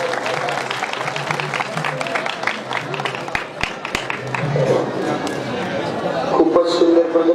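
Applause and crowd chatter welcome a very young contestant at the Jejuri Mardani Dussehra event, a continuous outdoor clapping wash with scattered sharper claps and crowd voices throughout.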